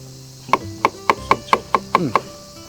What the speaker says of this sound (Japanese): 切り落としてみじん切りにしていきます